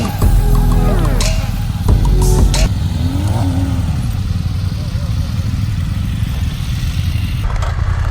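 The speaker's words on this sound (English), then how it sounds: "then we can rip the bike a little bit" A motorcycle engine revs loudly and close, with a few sharp throttle bursts early on, then settles into a steady rumbling idle while people talk over it.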